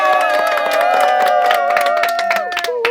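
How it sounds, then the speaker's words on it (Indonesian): A small group claps and cheers at the start of a first podcast episode, with sharp hand claps mixed with lively whoops and shouting voices, loud and close, over about three seconds. "Coba tepuk tangan dulu."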